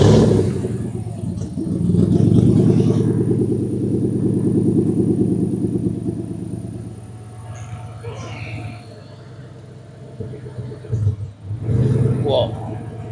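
A car engine fires up and settles into a loud, deep rumbling idle that slowly fades, then swells again briefly near the end, while people talk nearby.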